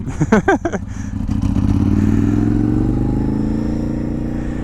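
A Honda CB 750 café racer motorcycle starts with a few sharp throttle blips, then pulls away in one long, loud, steady acceleration that fades slightly as it goes.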